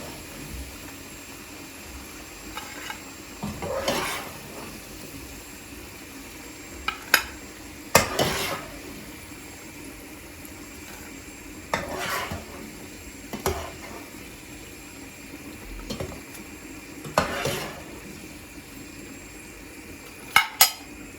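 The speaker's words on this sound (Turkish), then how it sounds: "Patlıcanlarımı da kızarttım." Eggplant slices fry in a pan with a soft background sizzle, broken every few seconds by clinks and scrapes of a utensil stirring and turning them, close and fairly quiet, with no talk.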